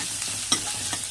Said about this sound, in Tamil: நல்லா துருவிட்டு அடுப்பை லோ ஃப்ளேம் பண்ணிவிட்டு இதிலையே நல்லா வதக்கி விடுங்க